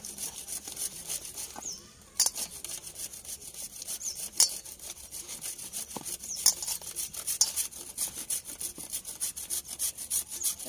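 Rice flour dough with date palm jaggery being kneaded by hand with warm water for kadam pitha, giving soft, repeated rubbing and squishing strokes with occasional sharper slaps, close and fairly quiet.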